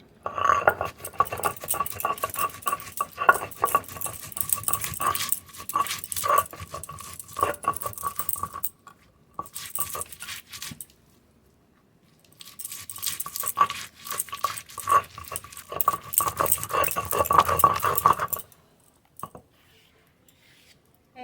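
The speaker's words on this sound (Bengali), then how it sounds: "জিরে আদা রসুন পেঁয়াজ একসঙ্গে বেটে নেব" Cumin, ginger, garlic and onion ground into a paste, a steady rhythmic scraping and rolling of stone on stone in two long bursts with a pause between, close and fairly loud, no talk.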